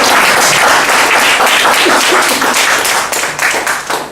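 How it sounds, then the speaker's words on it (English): Loud, close applause from a meeting audience at an evening club gathering, brisk dense clapping that stays strong and begins to thin and fade in the last second. "Give a big round of applause."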